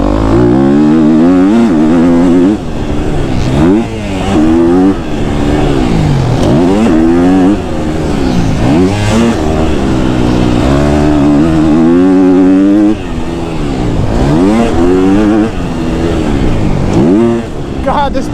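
A KTM 250 SXF four-stroke dirt bike is ridden hard, its engine rising and falling through repeated revving climbs and drops between gear changes, loud and close, with a rider's voice occasionally over it.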